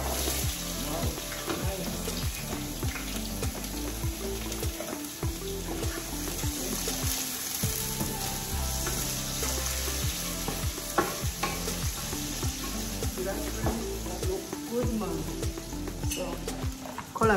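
Food fries and sizzles in a pot with seasoning, a steady crackling hiss broken by repeated scraping stirs, close and continuous, with brief quiet talk.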